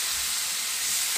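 Pumpkin sweet (kaddu ka meetha) cooking in a pan gives a steady, soft sizzle and hiss that holds evenly for the whole moment, with no talking over it.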